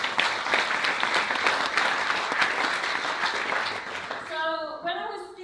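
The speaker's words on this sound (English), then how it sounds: "we should just all take another moment to give them a round of applause to say thank you for putting on such a great event" A crowd at a political rally applauds in a sustained, dense burst of clapping that holds steady for several seconds, then fades as a voice begins speaking near the end.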